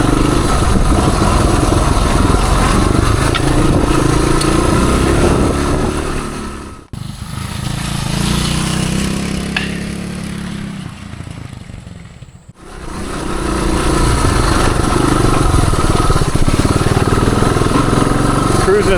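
A 1978 Suzuki DR370 motorcycle engine cruises in third gear, a loud, steady drone that dips and thins briefly twice before returning to full strength.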